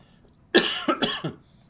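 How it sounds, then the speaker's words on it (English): A person coughs in a short cluster of three or four harsh, close bursts that quickly trail off, with quiet room tone before and after. "I'm ready to cough."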